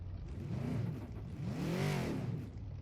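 A car engine in the Project Cars 2 video game gives two rising-and-falling throttle blips while heel-toe downshifting, each a short revving swell, under steady road noise at a moderate level.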